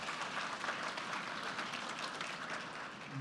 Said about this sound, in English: Can we give a round of applause to all the moms?